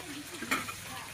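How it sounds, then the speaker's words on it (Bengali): Food sizzles and is stirred in a pan in a home kitchen, a steady frying hiss with a few faint utensil scrapes, close by. "এখানে আমাদের রান্না বান্না হচ্ছে এখন।"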